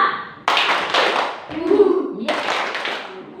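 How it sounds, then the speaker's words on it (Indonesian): Students in a classroom clap a rhythmic cheer together in short bursts of sharp claps, with brief gaps and some voices between them. "Kita tepuk semangat dulu."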